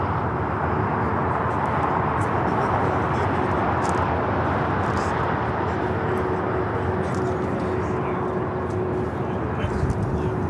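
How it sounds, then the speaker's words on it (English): A jet airliner roars overhead at Los Angeles International Airport, heard from the north-side parking garage as a loud, sustained broadband rumble that fills the whole stretch without any talking. "Having the planes flying directly over our head."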